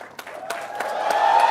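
At a 27th convocation ceremony, an audience claps for the graduating batch of 2024, starting with scattered claps and building into fuller, louder applause.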